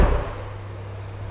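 A 2020 Hyundai i30 car door is shut once more, giving a single firm, close thump right at the start before quiet background hum.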